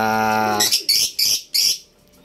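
African lovebirds in a cage, heard up close and loud: a sustained tonal call, then four sharp, shrill chirps in quick succession before a brief quiet.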